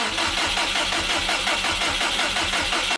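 A Subaru WRX hybrid-build engine cranks for its first start attempt, a steady, loud, close starter churn with rapid rhythmic pulses that runs for about three seconds and then cuts off abruptly.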